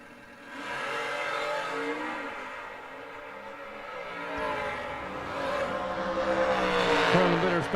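Sportsman drag racing motorcycles launch down the strip, their engines rising into a loud, sustained high-pitched whine that surges and builds as they pull away, with faint crowd or announcer noise beneath.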